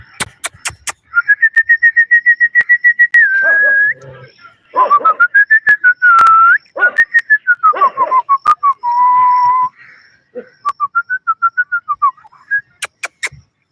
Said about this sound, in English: let me whistle them whether they are coming or not